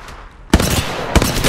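Two loud bursts of gunfire in the mobile shooter game Apex Legends Mobile, each a sharp broadband crack with a short rattling tail, separated by a brief lull over quieter game ambience.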